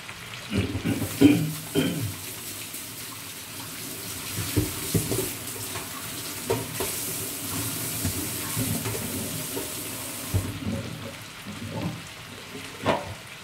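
Fresh shrimp sizzling in a pan of hot oil while being fried for a Vietnamese roasted shrimp dish, a steady close crackle and hiss with scattered louder pops throughout, no talking.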